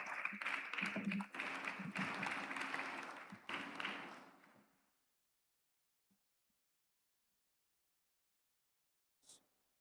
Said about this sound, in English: A round of applause for him as he comes forward